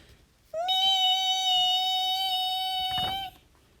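A voice imitates a huge swarm of mosquitoes and black flies with a sustained, steady, high-pitched whining buzz lasting close to three seconds, near and fairly loud, ending abruptly.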